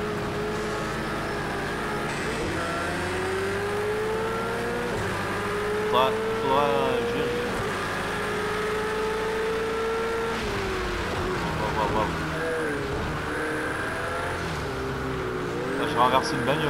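A Ferrari race car engine drones and whines through gear changes on a rainy track in the Project Cars 2 racing game, steady and prominent under people chatting.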